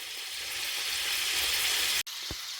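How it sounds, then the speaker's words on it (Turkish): A tablespoon of butter frying in a pan to make a topping for vegetable soup, giving a steady close sizzle that breaks off abruptly near the end, followed by a faint low knock, with no talk. "Kızarmaya başladığı zaman 1 tatlı kaşığı nane, 1 tatlı kaşığı da pul biber ilave edeceğim."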